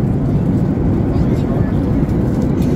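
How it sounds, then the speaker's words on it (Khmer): Steady, loud airliner cabin roar from a passenger plane descending to land in Hawaii after a five-hour flight from California, a continuous low rumble filling the whole stretch with no distinct events. "ឥឡូវនេះកប៉ាល់ហោះចិត្តចុះហើយ"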